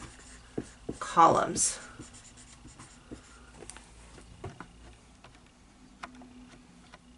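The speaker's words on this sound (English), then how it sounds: "I'm going to write that right here so we don't forget" Pen strokes on paper during a math lesson on dividing a rectangle into rows and columns, with short scratchy bursts and soft ticks under a close teacher's voice.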